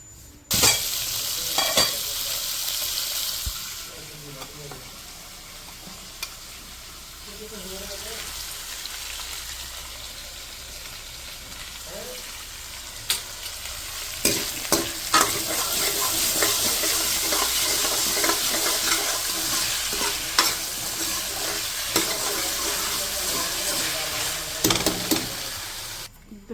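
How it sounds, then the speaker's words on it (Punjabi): Oil sizzles loudly as spices fry, with bursts of crackling, spoon stirring and scraping, and brief pauses before the sizzle flares up again. "ਇਹਨੂੰ ਆਪਾਂ ਲਾਈਏ ਤੜਕਾ ਪਹਿਲਾਂ"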